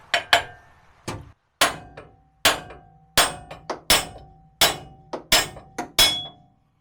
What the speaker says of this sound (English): Bigger hammer is what was needed.